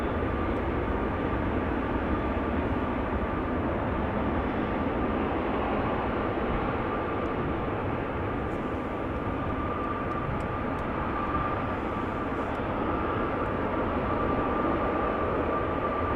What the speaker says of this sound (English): This is the Embraer 192 Florence